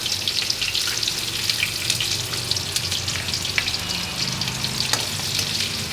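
Onion frying in hot oil with whole spices such as cloves for veg pulao, a steady dense sizzle with scattered crackles and light stirring scrapes, close and continuous throughout with no talking.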